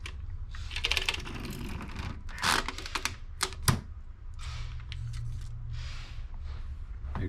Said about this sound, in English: Let's go ahead and peel this off.